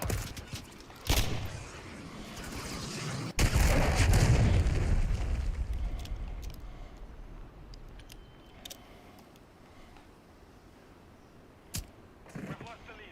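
A cruise missile strike in Call of Duty Modern Warfare III lands as a heavy explosive boom with a long rumbling tail, surrounded by scattered gunshots and game speech.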